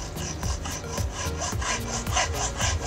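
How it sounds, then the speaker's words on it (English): A hacksaw cuts by hand with quick, even back-and-forth strokes, close and clear, each stroke giving a scraping rasp at a steady rhythm. "grab a hacksaw."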